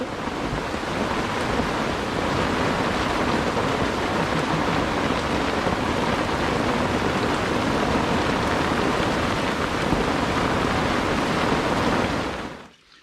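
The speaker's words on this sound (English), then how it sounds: "Just a quick downpour as we start packing away on the final night. First proper bit of rain we've had since we've been here." Heavy rain pours down in a sudden downpour at a lakeside carp-fishing camp in France at night, a loud, dense, continuous hiss that holds steady before cutting off abruptly at the end.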